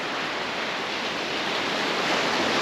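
Waves wash onto a shallow Aberdeenshire beach as the tide comes in an hour after low water, a loud, steady broadband surf roar with no talking.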